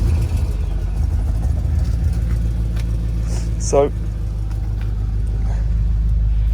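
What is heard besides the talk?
Audi S4 4.2 V8 straight-piped engine starting up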